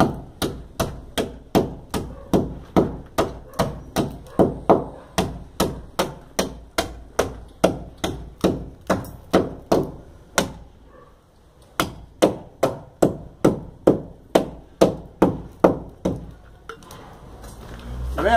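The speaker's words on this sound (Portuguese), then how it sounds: "Quebra o furo do tijolo, batendo com a marreta" A sledgehammer pounds a brick in a closed wall, striking in steady rhythmic blows, loud and close, with a brief pause partway through before the hammering resumes.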